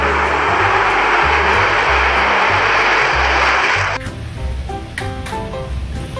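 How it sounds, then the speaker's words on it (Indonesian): A toy jet plane gives a steady loud jet-like roar for the first four seconds, then drops away to lower rumbling with faint tones and background noise. "ini ada pesawat jet teman-teman"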